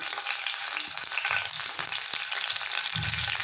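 Garlic frying in hot oil for a tomato chutney, a steady close sizzle and crackle that runs through the whole stretch with faint stirring clatter and no voices.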